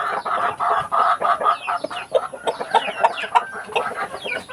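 Chickens, a rooster among them, cluck and chatter busily at close range while pecking at ripe bananas, a dense stream of short overlapping calls with brief pauses and no talking.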